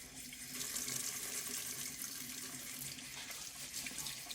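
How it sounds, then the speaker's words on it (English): Sink faucet running to wash lab tools such as a mortar and pestle, a steady splashing stream of moderate loudness with no speech. "All right, now I'm going to turn on the water and wash my tools."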